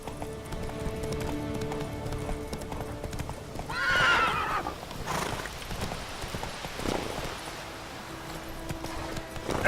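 Roach, a horse in The Witcher 3, gallops with steady rapid hoofbeats and lets out a loud, close neigh midway, with more hoof clatter continuing after.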